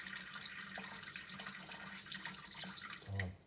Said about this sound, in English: So we'll slowly pour the water in, and you'll watch the that go up.